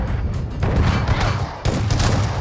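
Shotgun blasts in a video game sound as several loud, heavy booming bursts close by, separated by brief dips, amid dense, noisy game action.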